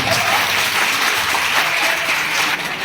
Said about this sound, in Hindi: इसके जोरदार तालियों के साथ उनका स्वागत है।